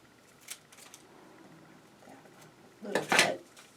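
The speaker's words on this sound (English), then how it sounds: "And you take your scissors and you're going to cut on these lines." Scissors snip through paper while cutting out a string of paper hearts, with faint scattered clicks and then a louder, close burst of cutting near the end, no talking.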